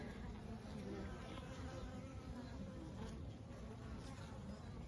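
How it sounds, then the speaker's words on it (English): Bees swarming over an open Layens hive on a windy March day make a dense, steady buzzing hum that fills the whole stretch, close and loud with no pauses and no one talking. "There's a lot of bees."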